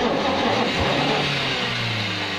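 An abandoned Green Goddess fire engine cranks and catches, its engine revving loud and close with a rough, rising roar, alone without talk.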